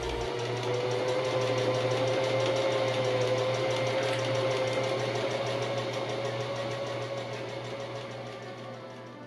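Close, continuous whirr of a sewing machine stitching fursuit paw pieces together, holding a steady motor hum that eases slightly toward the end, with no voices.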